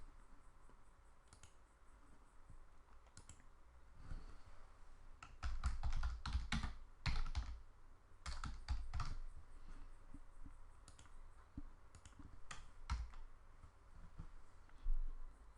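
Someone typing on a computer keyboard, writing a rule in a software form builder, producing quiet scattered bursts of close key taps with pauses between them and no talking.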